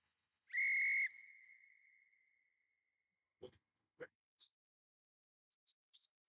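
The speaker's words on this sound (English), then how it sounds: "Whistles." A referee's whistle at an NFL football game between the Los Angeles Rams and Atlanta Falcons gives one loud, sharp blast of about half a second, then fades into faint scattered clicks and distant knocks.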